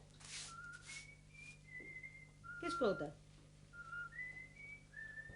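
Someone whistles a melody while climbing the stairs, a thin wavering tune that comes and goes across the clip, with a short spoken question and some nearby household clatter in the room.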